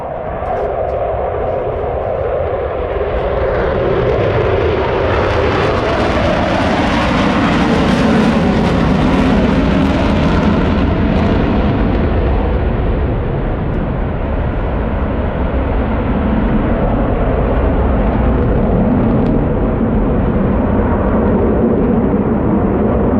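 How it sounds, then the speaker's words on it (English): Blue Angels jet with two GE F414 engines and afterburners lit at a Pensacola NAS air show, a loud continuous roar that swells to a harsh peak mid-pass and then holds as a heavy rumble. "Afterburners are lit, smoke is disappearing."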